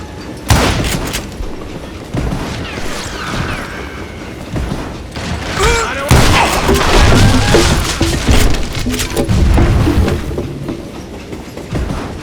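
A moving train in the Western game Call of Juarez: Gunslinger rumbles and clatters loudly and steadily, with rhythmic rail clacks and occasional heavy thumps throughout.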